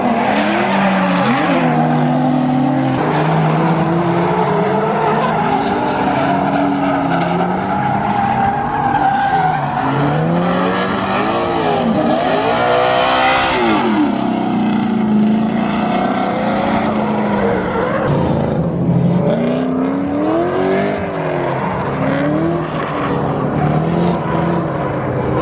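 Drift cars racing in tandem on a racetrack, with high-powered engines revving and tires skidding continuously and loudly, the rising and falling engine pitch swelling as several cars pass close by.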